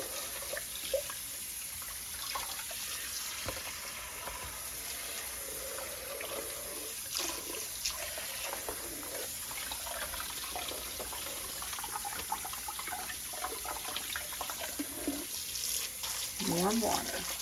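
Warm tap water runs steadily into a kitchen sink, a soft continuous splashing with occasional clinks and faint movement nearby.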